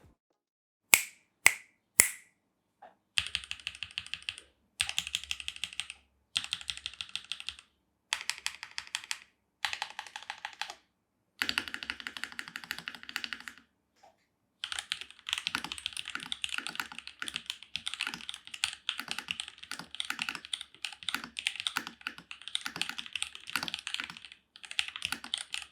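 Fast typing on a Keydous NJ80 pre-built mechanical keyboard: crisp, close clacking keystrokes in quick bursts with short pauses, then a long steady run, opened by a few sharp snaps.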